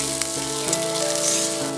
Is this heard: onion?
yes